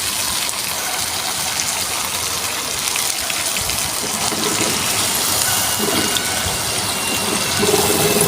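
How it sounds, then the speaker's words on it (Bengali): Water pours steadily into a cooking pot of fried potato and pointed gourd curry, a continuous rushing gush lasting several seconds at close range with no talking. "এবার আমি জল দিয়ে দেব।"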